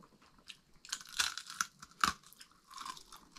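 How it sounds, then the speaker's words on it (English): Someone bites into crunchy roast potatoes up close. A few crisp, sharp crunches are followed by softer chewing during a quiet moment outdoors on a caravan road trip in Queensland. "Will there be enough crunch on the potatoes?"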